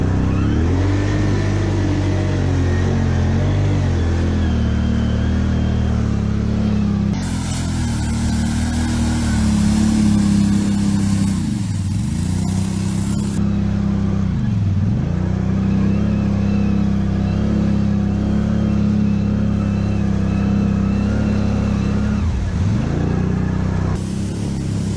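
A Can-Am XMR 570 ATV engine drones loudly and continuously in four-wheel drive while playing in a ditch, its pitch dipping and rising as the throttle eases off and revs back up.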